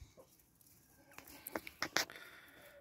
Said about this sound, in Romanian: Acestea sunt 4 găini și un cocoș